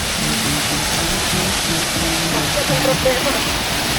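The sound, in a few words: waterfall, Tenogtog Falls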